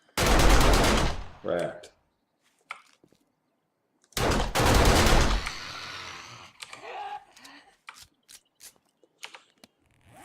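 Modded weapon in 7 Days to Die firing in two rapid bursts, loud and dense, separated by a pause, followed by scattered softer clicks and handling noises; a brief spoken word is heard.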